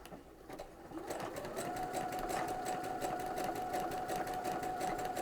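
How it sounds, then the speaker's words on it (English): A sewing machine fitted with a fringe/looper foot, tension set at 0.5, runs decorative stitching, starting softly and then settling into a steady, fast mechanical whir with a rapid regular clatter. "I'm just going to back stitch and I'm going to start sewing"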